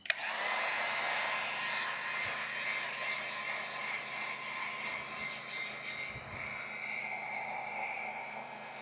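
A heat gun blows hot air onto the vinyl of an ATV seat, a steady, close, airy roar with a whining hum that holds for the whole stretch, with no speech.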